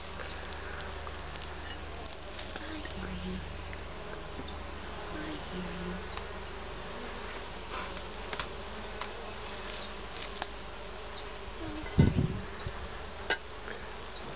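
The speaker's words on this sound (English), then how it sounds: "Lots of bees coming in here." Honey bees buzz steadily at the entrance of a backyard beehive, a continuous close insect drone with a few louder passes near the end and no talking.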